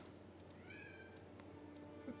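A domestic cat meows a few times, short faint cries at a distance over a steady low background hum.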